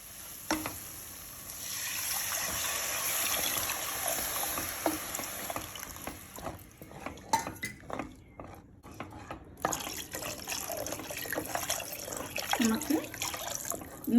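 Tamarind water being poured into a pan for Tamil fish curry (meen kuzhambu), a steady liquid pour and sizzle that gives way to sparse drips and stirring clatter, close and moderately loud, with no talking.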